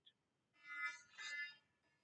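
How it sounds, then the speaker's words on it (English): A faint electronic alarm tone sounds in two short bursts, thin and tonal, with no one speaking. "that was my alarm going off"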